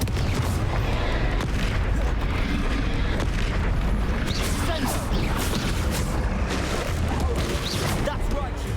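Booming fire-spell blasts from the Hogwarts Legacy video game, played on Nintendo Switch, roll continuously through a loud, crowded fight, with voices calling out over the steady rumble of explosions.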